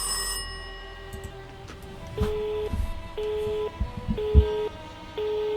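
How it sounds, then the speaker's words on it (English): A telephone ringing in the horror video game Rise of Insanity, a repeating electronic ring in evenly spaced bursts with soft footsteps and thuds between them, fairly close and without talk. "Sure are answering a lot of phones in this one."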